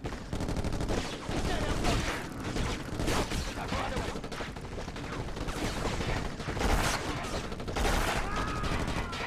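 Dense gunfire in the video game Black on PlayStation 2: sustained rapid bursts and overlapping shots roll on without pause, loud and close, with a few heavier blasts breaking through the steady barrage.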